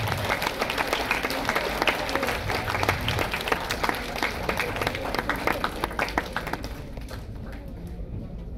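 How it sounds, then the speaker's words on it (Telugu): A crowd of students at a medical college awareness program on body and organ donation claps loudly and steadily, a dense, sustained applause that thins slightly near the end. "అంత దూరం వినబడేటట్టు గట్టిగా అందరూ చప్పట్లు కొట్టండి."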